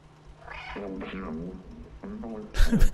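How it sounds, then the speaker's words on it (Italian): A cat meows in the video game Stray, several short mews in a row followed by a louder, rougher cry, with a player talking over the sounds. "è bello che quando miagoli si girano"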